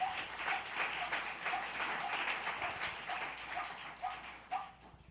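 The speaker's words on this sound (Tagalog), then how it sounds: "Palakpakan po natin ang Diyos na buhay." A church congregation at Sunday worship claps in a steady, moderately faint burst of applause, with a faint tonal sound running underneath.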